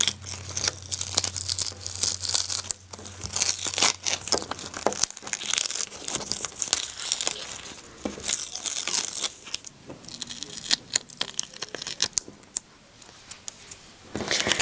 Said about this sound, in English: we can go ahead and weed away the excess material from our carrier.